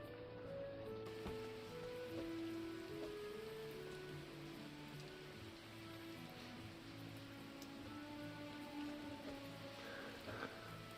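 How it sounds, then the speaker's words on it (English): Steady, soft rain patters throughout with a quiet tonal melody playing faintly beneath it, in the video game Kitaria Fables on PS5. "it's raining, so I don't really have to water anything"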